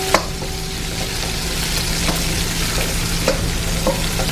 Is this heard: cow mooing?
no